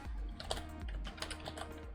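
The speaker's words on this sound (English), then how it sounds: "Let me show you what I'm typing." Quick, steady typing on a computer keyboard, with close, crisp key clicks in an irregular rhythm, heard alone without talk.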